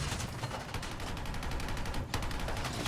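Rapid gunfire from a tank-battle video game, a dense continuous rattle of shots with one sharper crack near the end, loud and steady throughout.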